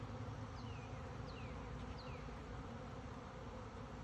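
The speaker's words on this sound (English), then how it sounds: "So they split from this hive. The old queen left and took half of them with her." Honey bees swarming from a split hive make a steady, dense buzzing drone close by, with individual bees whizzing past now and then.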